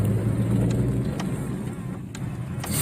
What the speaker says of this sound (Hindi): यादगार एम्बेसडर कार चल रहा है भाई